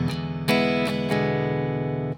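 Guitar strumming groove, a few quick close strummed chords in a short rhythmic pattern, ringing then cut off.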